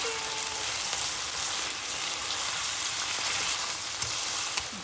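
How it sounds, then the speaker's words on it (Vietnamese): Beef sizzling in olive oil with garlic and onion in a pan, a steady close frying crackle and hiss running unbroken throughout with no talking. "tỏi hành rán vàng cho bò đã"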